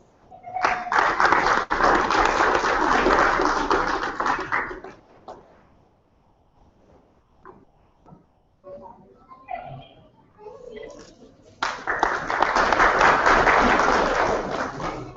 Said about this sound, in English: we can have a more stronger round of applause for all of them, please